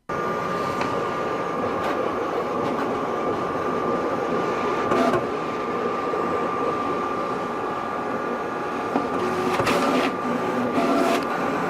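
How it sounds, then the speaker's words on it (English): A vinyl cutter with a 45-degree blade slicing brick heat transfer vinyl for custom shirts, giving a steady motorized whir with a constant tone and occasional brief clicks and shifts throughout, no talking. "let's go ahead and send this to the cutter"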